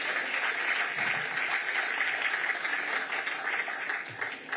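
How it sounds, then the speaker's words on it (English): Dense, continuous crowd applause fills a hall at a leadership lecture, honoring political leaders including the Labour Party and its movement, steady and without talk. "Please give all of them a resounding round of applause."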